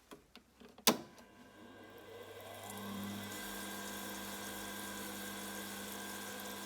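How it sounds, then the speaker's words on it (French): A lens-edging grinding wheel with water supply, set up for an organic lens of index 1.5, starts with a sharp knock, then spins up into a steady, faint, humming whine that holds to the end. "Donc il va falloir que je vérifie que j'ai bien une arrivée d'eau convenable sur ma meule."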